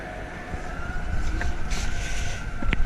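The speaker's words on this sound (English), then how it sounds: "I'm trying to figure out what those sirens are. They're coming from everywhere." A wailing siren sounds at a distance over low traffic rumble, its steady tone holding throughout, with no voices.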